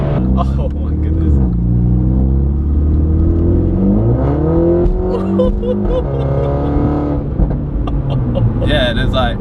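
A Mini Cooper JCW (F56) accelerating hard, its loud engine droning and rising steadily in pitch from close inside the car, with people talking over it throughout.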